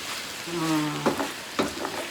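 Sausage sizzles and fries in a pan while a lasagna sauce is prepared, a steady close crackle with a couple of sharper stirring scrapes, a short tone briefly sounding at the start.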